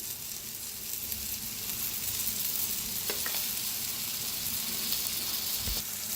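Yogurt hitting a hot pan of tempering spices with fennel, cumin and coriander for a spicy chilli dish, giving a steady broad sizzle that holds throughout, with a couple of faint stirring clinks and no voices.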